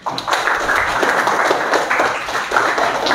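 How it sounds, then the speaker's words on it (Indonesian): Students in a classroom clap together in a short, lively burst of applause, uneven and close, lasting a few seconds. "Tepuk tangan untuk semuanya."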